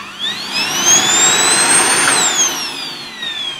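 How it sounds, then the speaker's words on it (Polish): A disassembled Dirt Devil Infinity V8 vacuum cleaner motor runs with a steady whirring whine that rises in pitch, peaks, then falls away, loud and close, with no talk over it. "Silnik pracuje, wszystko pracuje."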